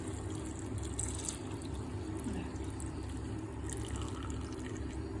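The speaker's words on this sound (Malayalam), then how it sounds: "എന്നിട്ട് ഈ ശർക്കരപ്പാനി ഇതിലോട്ട് ഒഴിച്ചു കൊടുക്കണം" Jaggery syrup pours into cooked lentils being roasted in a pan, a steady, close liquid splash and gurgle running for several seconds with no talking.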